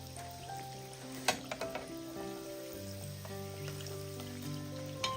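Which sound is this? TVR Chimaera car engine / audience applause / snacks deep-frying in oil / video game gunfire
snacks deep-frying in oil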